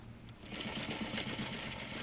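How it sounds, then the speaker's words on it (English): A sewing machine stitches a jacket collar band, its needle running in a steady, even, moderately fast rhythm, close and fairly quiet, starting after a short pause and continuing without talk. "All right, so now I can sew it. Trying to sew to the left"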